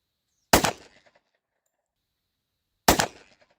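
Two sharp, loud gunshots from a Tisas 10mm pistol at a shooting range, spaced about two seconds apart, each with a short ringing decay into silence.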